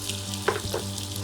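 Chopped coriander leaves and hot water landing in hot oil with green chilli paste, a brief hiss and sizzle with a couple of quick bursts over a steady low hum.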